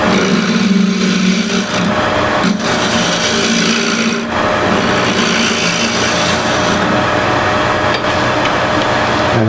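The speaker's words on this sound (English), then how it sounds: "just with the scrapers I get rid of the center stuff" A scraper works steadily against the spinning wood on a lathe, clearing the center of a turned bowl in a continuous loud rasping scrape with brief dips, no voices.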